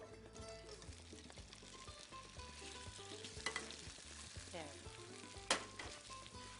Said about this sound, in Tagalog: Generous amount of olive oil in the pan. Slowly, we'll put our prawns into the pan.